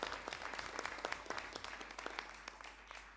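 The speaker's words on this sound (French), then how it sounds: "Applaudissez-les encore une fois, vos adjoints." A municipal council audience applauds the deputy mayors after a mayor's re-election, giving steady, moderately distant clapping throughout.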